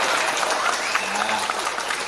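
Audience clapping at a comic Balinese drama gong puppet performance, a dense steady patter of many hands filling the space, with voices mixed in underneath.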